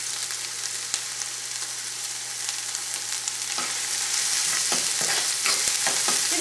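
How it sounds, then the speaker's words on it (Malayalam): Ginger, green chillies and curry leaves sizzle steadily in a hot pan, a dense continuous crackle with a few sharper stirring scrapes toward the end, close and fairly loud with no talking. "ഇതെല്ലാം കൂടിയിട്ട് നമുക്കൊന്ന് വഴറ്റിയിടുക."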